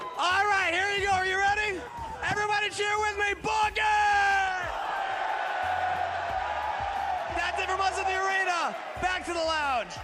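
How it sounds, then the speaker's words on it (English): An arena crowd cheers loudly in repeated bursts of yelling and whooping, with strong individual shouting voices, a brief dip into a lower crowd roar in the middle, then another energetic wave of cheering. "Everybody cheer with me."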